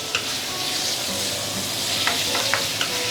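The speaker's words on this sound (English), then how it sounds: "Then I'm going to put in the marinated meat. And as you can see here, it's very easy to stir fry." Marinated pork strips stir-frying in oil over medium-high heat, a steady close sizzle with faint scrapes and clinks of stirring throughout.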